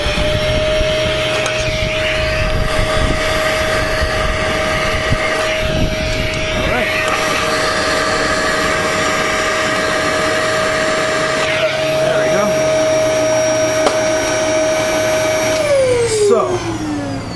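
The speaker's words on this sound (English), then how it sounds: "So I hooked up my vacuum cleaner." A vacuum cleaner, used to clean out a Jeep Cherokee during radiator replacement, whines loudly and steadily with a strong constant tone, then powers down near the end as the pitch drops away.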